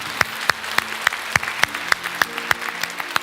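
Church congregation clapping in praise at a worship service, sparse and fairly steady individual claps standing out at a regular rhythm over a low murmur, close and moderately loud.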